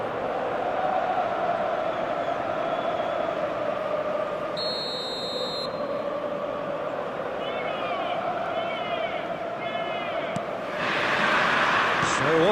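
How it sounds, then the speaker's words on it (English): In the eFootball video game, a stadium crowd roars in a constant dense wall of noise under a commentator's talk, with a brief buzzer-like tone midway and a surge of louder cheering near the end. "This crowd doesn't do ordinary, and we should be in for something very special."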